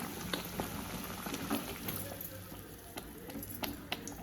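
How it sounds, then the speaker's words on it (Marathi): Parathas roasting on a hot pan, a soft steady sizzle with faint crackles and small kitchen clatters, quiet and close. "आणि तिथे ते पराठे भाजून देत आहे"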